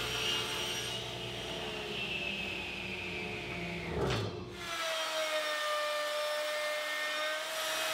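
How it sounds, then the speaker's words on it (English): A board being ripped into half-inch strips for router-made picture-frame molding, the saw cutting steadily through wood with a loud continuous whine that shifts pitch and eases off toward the end, no talking. "To get started, I'll rip two pieces from the board at 1/2 inch."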